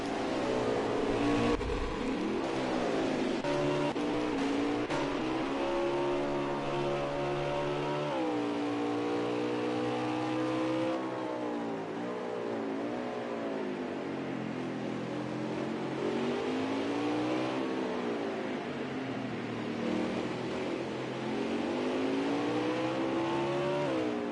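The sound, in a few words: RC race cars driving on track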